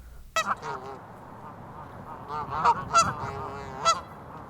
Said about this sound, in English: I like the geese, they don't bother me per se